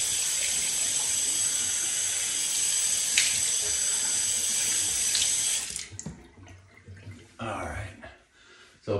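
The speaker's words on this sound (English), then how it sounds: "Cold water. Always do cold water to wash your face off at the end." Cold tap water running into a bathroom sink during face washing, a steady loud hiss that stops partway, followed by splashing and dripping sounds.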